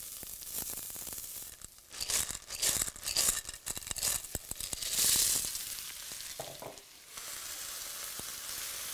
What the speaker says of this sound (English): I have a dutchie, hot, really hot, and I wanna do, put the periwinkles in really quick.